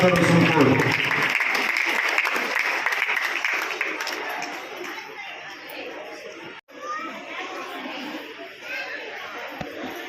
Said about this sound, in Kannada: ಕೈ ಇದ್ದವರು ಮಾತ್ರ ಚಪ್ಪಾಳೆ ಕಟ್ಟರೆ